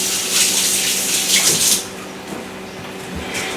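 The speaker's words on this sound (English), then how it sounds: "Rewash my hands again." Tap water running steadily into a sink while hands are washed under it, a continuous close splashing hiss that thins out and softens partway through.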